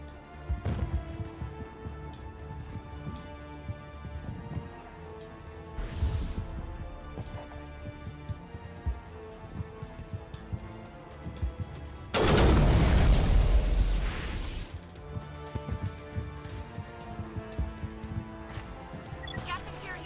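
Grenade blasts in a Mass Effect firefight, a dense roaring burst of explosion noise lasting about three seconds midway, set against steady battle sounds and music throughout.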